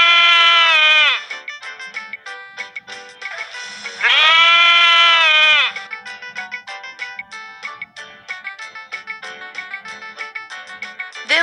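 Two long, wavering goat bleats, loud and close, separated by a stretch of quieter clicking and rustling sounds.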